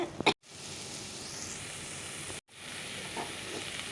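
Bottle gourd chorchori sizzles and fries in a pan, a steady close crackling hiss, broken by two brief gaps, with a faint clink of a utensil at the start.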